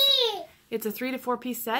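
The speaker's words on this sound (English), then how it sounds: "Sorry for the baby yelling." A baby yells with a rising, then falling squeal, followed by someone speaking over it nearby.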